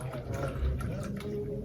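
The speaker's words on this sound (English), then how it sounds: "Open it up, and then we pour the contents" A freshly shaken holiday cocktail poured from a shaker into a glass, a steady close-up splash and gurgle of liquid running continuously for under two seconds.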